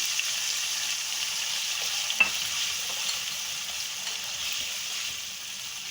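Chicken frying in a pan at medium flame for Memoni khausay, an even, soft sizzle that holds steady throughout with one brief clink of a utensil, close and moderately quiet, no voices.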